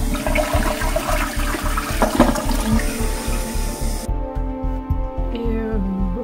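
A toilet flushes in a rush of loud, close water, swirling and gurgling before the tank refills with a steadier hiss; a cockroach is being flushed down.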